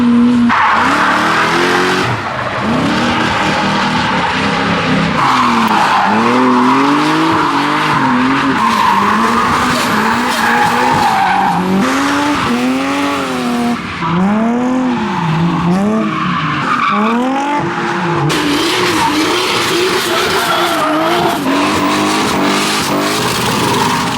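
A drift car at the TRAX event at Silverstone slides sideways on track, its engine revving and wavering in long swooping tones as the tires squeal and skid continuously, loud and close throughout.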